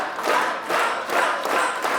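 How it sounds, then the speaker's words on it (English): Passengers on a Disney cruise join in a rhythmic slow clap, roughly three loud, swelling group claps with cheering voices, spaced about half a second apart. "It's now time to start a slow clap"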